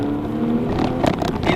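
Steady engine drone from a Porsche 991 911 Targa 4S underway, with harmonic hum and some rising rev-like surges toward the end; no talking.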